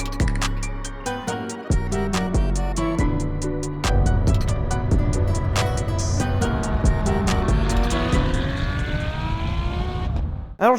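A Ferrari 599 GTO under way, its engine revving hard through repeated upshifts with a rising, screaming note, loud and close, before easing off and cutting out at the end.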